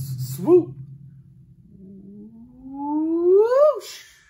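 Children's voices imitate swooping ghosts in a music-class game: a short hoot-like swoop, then a long, loud glide that climbs steadily and peaks before breaking off.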